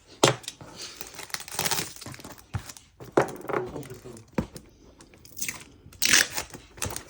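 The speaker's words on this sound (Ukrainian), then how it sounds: "перехресно закриваємо скотчем" Packing tape is pulled and pressed onto a cardboard box in several crackling, ripping bursts with short pauses between them.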